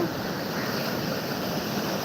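Surf rolls in continuously at RK Beach in Vizag, a steady broad wash of breaking waves with some wind rush, close and fairly loud with no pause across the short stretch.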